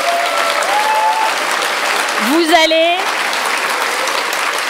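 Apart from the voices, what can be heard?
audience applause at a political rally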